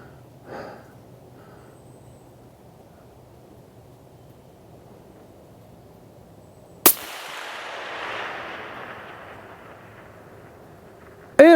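A Desert Tech SRS M2 .338 Lapua rifle fires a single sharp, loud shot outdoors that rolls off in a long echoing rumble, with the start of another report at the very end; no talking.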